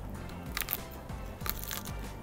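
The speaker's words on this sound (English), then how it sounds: "Listen to that crunch." Crunching bites into a crispy chicken wing, with two or three sharp, crackly bursts followed by close chewing, loud and near with no talking.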